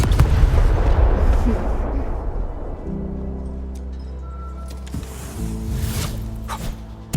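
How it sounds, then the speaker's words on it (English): A video game explosion in Arknights Endfield bursts loudly at the start and rumbles away, with a second swell of blast noise near the end, under sustained game music. "I give that explosion a 10 out of 10."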